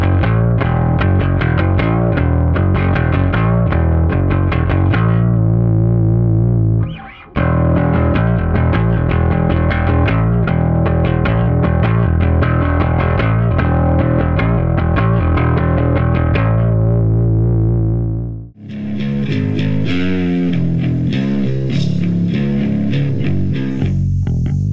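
Heavily distorted bass guitar plays a loud, repeating riff with bent notes. It pauses briefly twice and is heard alone without talk.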